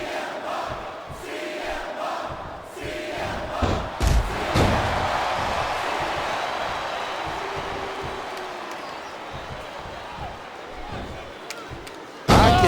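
Crowd at a WWE wrestling match, Survivor Series 2007: a constant roar of cheering filling the arena, with a few thuds and slams from the ring and commentators talking over it.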